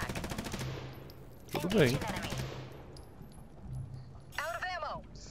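Rifle fire in the tactical alien-fighting game USC: Counterforce: rapid bursts of faint shots at the start and again near the middle, quiet under a player's talk, with a brief electronic warble near the end.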